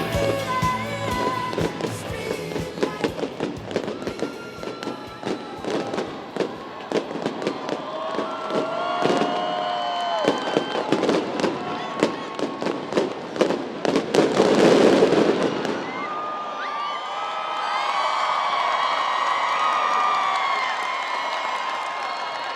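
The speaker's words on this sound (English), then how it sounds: "Thank you so much to our student council for the donation of fireworks this evening." Fireworks go off at a high school graduation ceremony: a dense, rapid run of crackling bangs and pops, then a large burst, with a crowd cheering and murmuring beneath and continuing after the barrage fades.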